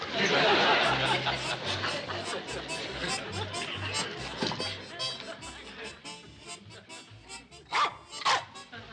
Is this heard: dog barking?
yes